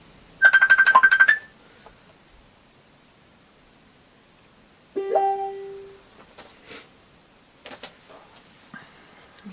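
A phone ringtone sounds in a crafting room: a loud electronic ring burst near the start, then later tonal chimes and scattered clicks, with no talk.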